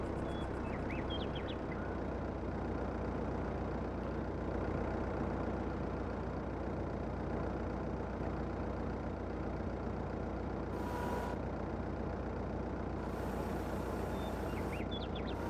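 A pickup truck in Farming Simulator 22 gives a constant low engine drone, like idling or a steady run, that goes on without a break. Faint clicks and short tones from the game come through now and then.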